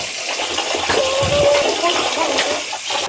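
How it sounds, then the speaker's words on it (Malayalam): A tap runs in a steady gush as raw chicken is washed with salt, water splashing continuously at close range, with a faint brief tone midway. "കോഴി നല്ല ഉപ്പിട്ട് കഴുകണം"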